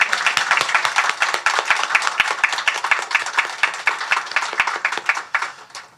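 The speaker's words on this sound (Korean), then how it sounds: "우리 하나님께만 모든 영광의 박수 올려드리겠습니다" A church congregation at a Sunday afternoon worship service bursts into sustained, dense applause: many hands clapping together in a loud, steady roar that tapers off near the end, with no talking over it.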